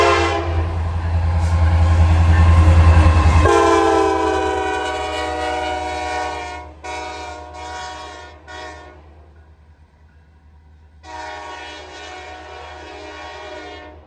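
A pair of Norfolk Southern locomotives, including a heritage unit, pass loudly with a long, sustained horn blast. Rumbling engines follow, then more horn blasts. The sound drops away, and a final horn sounds from farther off.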